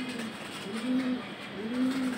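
Pigeons coo on an early morning rooftop under a clear sky just before being released, giving two low, rounded coos near the mic over faint background hiss.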